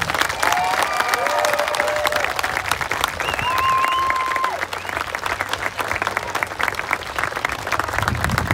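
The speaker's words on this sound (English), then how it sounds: "please join us on a full-on social gathering round of applause" Applause fills a high school graduation ceremony for the class of 2022, a loud sustained crowd clapping with some cheering, while a voice speaks over it and a few whistling tones rise above the noise.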